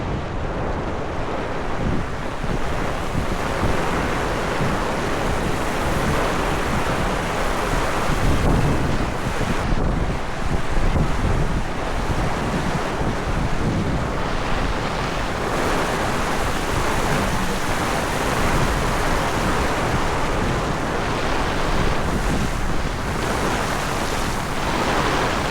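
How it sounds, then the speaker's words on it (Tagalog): Strong typhoon wind roars continuously over a flooded Metro Manila street, a dense, steady gusty rush with buffeting on the microphone, loud and unbroken throughout with no talk. "Yung payong sobrang lakas ng hangin."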